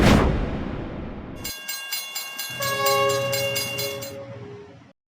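A train passes close by with a loud horn blast sounding for a few seconds over its rumble, then cuts off abruptly.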